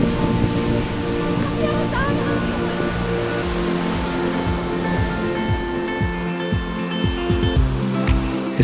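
Surf rolling onto the beach at Ilha do Pessegueiro on the Portuguese coast, a steady broad wash of waves with continuous hiss, overlaid by background musical tones.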